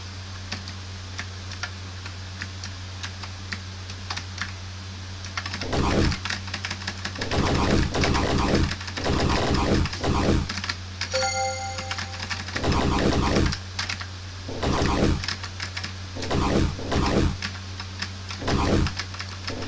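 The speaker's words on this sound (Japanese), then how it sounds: "とりあえず移動できなかったんでキーボードやります" Computer keyboard keys clack in quick, uneven bursts as a shooting game is played on a computer, with short pauses between flurries and a steady low electronic hum underneath.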